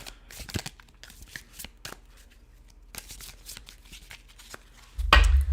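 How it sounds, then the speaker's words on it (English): A tarot card deck being cut and shuffled by hand gives a series of crisp, close riffles and slaps in irregular bursts, ending in a louder, harsher shuffle. "I'm going to go ahead and cut my deck"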